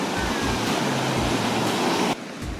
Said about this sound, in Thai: ตอนนี้คลื่นมันแรงมาก